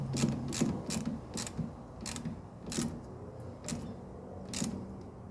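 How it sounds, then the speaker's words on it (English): A small ratchet tightening bolts on the brakes of a 2016 Honda Civic, rapid bursts of clicking repeated in short strokes with brief pauses, close and clear without talk. "Get your ratchet, not very tight, like I said. Do a little bit at a time."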